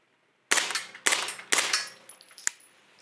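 Suppressed gunshots from subsonic 158 grain ammunition, three sharp reports about half a second apart with ringing tails, then a faint metallic clink of spent brass.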